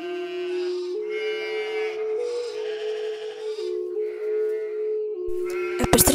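A sheep bleats in long, wavering, nasal cries that rise and fall in pitch, nearby and fairly loud, with a brief sharp clatter right at the end.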